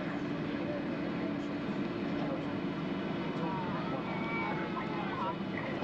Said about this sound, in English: we are taxiing from a live plane